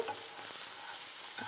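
Goat meat frying with tomato paste being stirred in, for a mbuzi wet fry: soft scraping stirs over a steady close sizzle, with a brief louder scrape at the start and another near the end.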